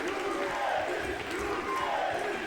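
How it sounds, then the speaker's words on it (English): Crowd at a boxing title fight in Dubai, a continuous roar of voices with swelling cheers and shouts, moderately loud and steady throughout. "He's got the crowd going now."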